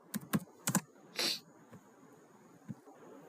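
Clicky keystrokes on a computer keyboard while a code comment is typed, a few quick taps in short bursts followed by a single brighter key press, then sparse isolated clicks against a quiet room.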